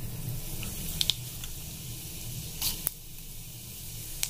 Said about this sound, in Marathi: आता मी इथे फोडणी देणार आहे